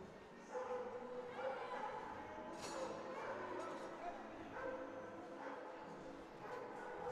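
During a women's ice hockey game, a dog in the arena stands gives faint, excited yips and barks against crowd noise and commentary.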